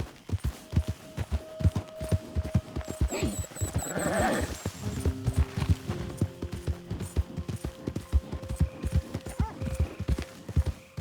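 Horses in the Red Dead Redemption 2 video game, a steady rhythmic clip-clop of hooves on the ground with a loud whinny in the middle, plus brief snorts, heard close and without talk.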